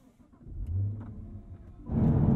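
A 2022 Cadillac CT5-V Blackwing with a supercharged, hand-built 6.2-liter V8 turns over with a low starter churn, then catches and bursts into a loud, close rev near the end.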